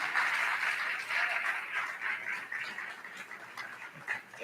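An audience at a college fall convocation claps for Daisy Fox, a faint, even wash of many hands that fades a little toward the end.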